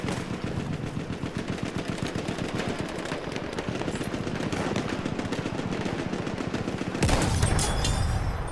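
Enemy machine gun fire in a first-person video game battle over an objective, sustained rapid bursts of automatic shots hammering for several seconds, loud and close, ending in a sharper louder burst near the end with no talk.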